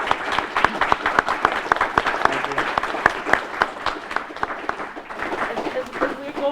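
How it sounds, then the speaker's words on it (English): Audience applause at an undergraduate history conference panel, a dense patter of clapping from a room of listeners that stays steady for several seconds with a faint murmur underneath. "Can we do a round of applause?"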